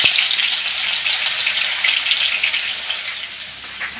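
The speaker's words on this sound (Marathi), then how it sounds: "आता आपण हे ठेचलेला लसूण टाकून घेऊ" Crushed garlic hits hot oil with mustard seeds and cumin and sizzles close up. A dense, bright hiss of frying holds steady for a few seconds and fades slightly toward the end.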